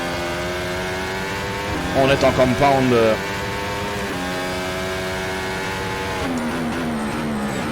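A modern Formula 1 car in rFactor 2 sim racing drones steadily at high revs, with a brief surge of engine pulses midway; someone talks over it the whole time.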